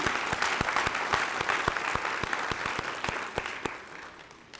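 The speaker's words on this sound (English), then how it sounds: "join me in just another round of applause for the Winston-Salem Police Choir" Audience applause for the Winston-Salem Police Choir at a police and fire department Black History Month celebration, a full room clapping steadily, with some sharp individual claps standing out near the front.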